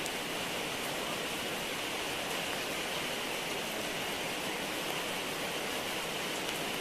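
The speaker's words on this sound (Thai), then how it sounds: "ฝนก็ตกอย่างนี้เนาะ" Steady rain falls on a rose garden, a dense, even hiss that never lets up, loud and close with no voices over it.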